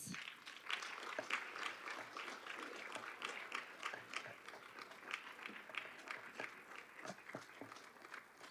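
A Youth Parliament audience claps as a speaker walks to the stage. The applause is steady and moderately dense, heard from a distance in a large hall, with scattered louder claps and no talking.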